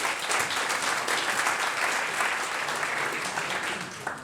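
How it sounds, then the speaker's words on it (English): An audience at a cycling club awards night applauds in a dense, sustained wash of clapping that holds steady throughout and tapers slightly at the end. "That deserves a round of applause,"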